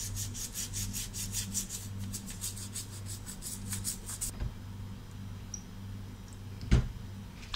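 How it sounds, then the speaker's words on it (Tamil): A brush is scrubbed hard back and forth over the small holes of a gas burner during cleaning, giving a steady run of close, rasping strokes that stop partway through, with a low hum and a single sharp knock near the end. "குட்டி குட்டி ஹோல்ஸ், அதிலலாம் நல்லா ப்ரெஷ்ஷை போட்டு அழுத்தி தேங்க."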